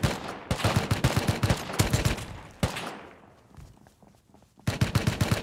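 AK rifle fire in the Rust video game during an online raid, loud rapid bursts of automatic shots close by, a pause with quieter background, then another fast burst.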